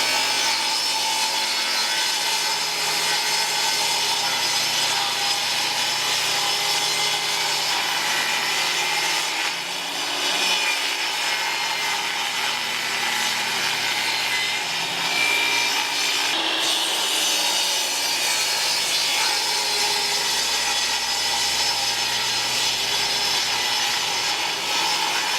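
A saw cuts steadily through 3/4 inch plywood sidewalls for an entertainment stand, sized 36 by 17 1/4 inches. The loud, continuous rasping grind runs unbroken and close up, with no talk.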